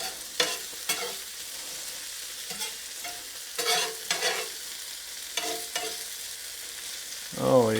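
Potatoes sautéing in a pan of saved bacon grease, with a steady soft sizzle broken by repeated scraping stirs at irregular intervals, close and moderately quiet, with no talking.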